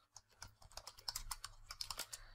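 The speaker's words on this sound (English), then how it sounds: "So I simply type here" Quiet, rapid typing on a computer keyboard while writing React code, a soft irregular patter of key clicks that runs continuously with no voices.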